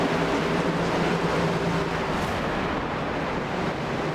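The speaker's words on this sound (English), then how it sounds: "the only music you need to hear, that's the roar of those engines" Roar of NASCAR Cup stock car engines in an iRacing game at Watkins Glen, a loud, dense and steady broadband drone that holds at full level throughout with no voices.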